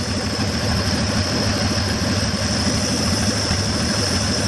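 A truck's 250 engine idles steadily and close by, a continuous low rumbling drone with no talk over it.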